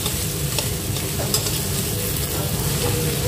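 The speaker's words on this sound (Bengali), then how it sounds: "এখন ভালো মতন আলুটার সঙ্গে মশলাটাকে মিশাতে হবে" Potatoes coated in spices are stirred in a frying pan over medium heat with a little water, a steady loud sizzle under repeated scraping strokes of the spoon, no voices.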